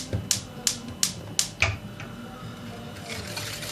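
A gas stove burner being lit while cooking turmeric cream for a cake: five sharp, evenly spaced igniter clicks, loud and close, then a soft steady hiss as the flame takes.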